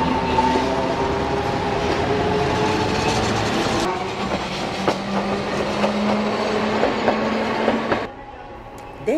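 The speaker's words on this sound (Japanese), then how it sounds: "ビルの谷間をごとごとと音をきしませながら走る市内電車。" Okayama city streetcar rolling through a downtown canyon of buildings, a steady rumbling clatter of wheels on rail with creaking, squealing tones, loud and close before easing off near the end.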